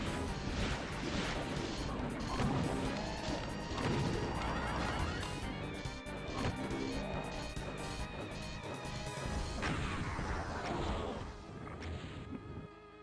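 Rocket explosions and combat noise from Doom II, dense and continuous, with repeated loud crashing blasts layered over game music and effects throughout, no voices.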